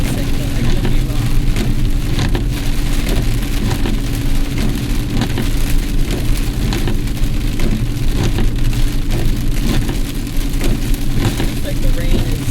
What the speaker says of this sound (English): The rain is not terrible, though.